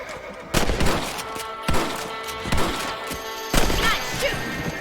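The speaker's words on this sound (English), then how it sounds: "You're better at shooting rabbits than outlaws" Four sharp rifle shots ring out one after another while hunting rabbits in Red Dead Redemption, each a loud crack with a short tail over quiet outdoor ambience.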